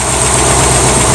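Loud, close engine idling steadily with a faint rapid ticking from the cam in a flat-tappet motor, an even rumble throughout.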